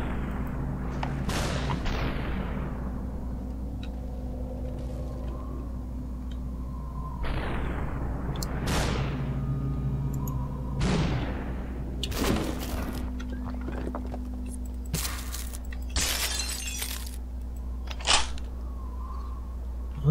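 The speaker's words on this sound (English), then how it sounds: "Oh shit, it's just firing on it. Automatic fire, burst mode." Automatic machine gun fire in the video game Superhot: sharp, separate gunshots and short bursts spaced across the stretch over a steady low hum.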